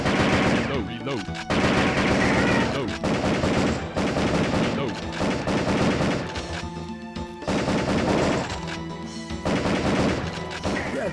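Rapid bursts of gunfire in the PS1 shooter Area 51, loud and repeated with short gaps between volleys, mixed with game music and effects.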